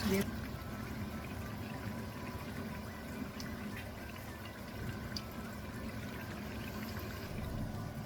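Kebabs fry in a pan during iftar cooking, giving a soft, steady sizzling hiss with occasional faint pops. Someone talks over the frying throughout.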